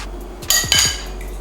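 A fork or whisk clinks against a small bowl while beating a raw egg into egg wash for simple Halloween treats, giving a few quick, close ringing taps in a short burst.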